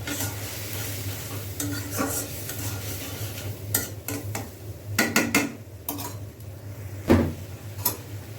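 Shrimp and spices frying in a pan with a low sizzle beneath intermittent stirring and clinks of a spatula against the pan, several sharper scrapes clustered near the end, no voices.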